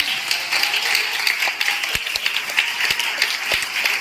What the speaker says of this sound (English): Clap your hands to the Lord one more time